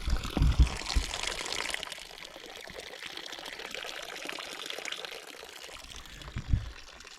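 Water runs from a camp water supply, a steady moderate pour and trickle lasting throughout, with a few louder knocks and bumps near the start and end.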